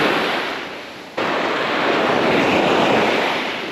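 Gentle surf washing steadily onto a calm shoreline where anglers fish the water's edge, a continuous broadband wash with a brief dip before swelling again, with wind noise over the microphone and no voices.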